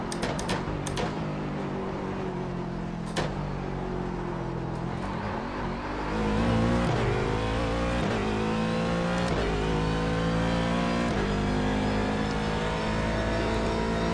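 An IMSA Daytona Prototype race car in the iRacing sim at Virginia International Raceway, its engine droning loud and steady, then rising and falling through revs and gear changes.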